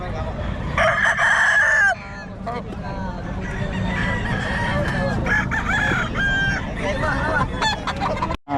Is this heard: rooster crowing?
yes